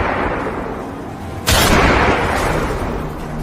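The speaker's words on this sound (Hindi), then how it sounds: "अरे देखते क्या हो, गोली चलाओ इस पर।" A single sharp gunshot in a Hindi audio drama cracks out loud and sudden midway, then a dense ringing tail and background noise carry on to the end.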